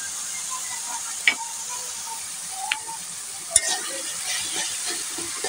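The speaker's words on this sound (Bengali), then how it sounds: "মশলাটাকে কষিয়ে নিচ্ছি।" Spice paste with garam masala, cardamom, bay leaf, cinnamon, ginger and garlic paste stir-fried in hot oil for broiler chicken, a soft continuous sizzle with a few sharp spoon scrapes against the pan, close and without speech.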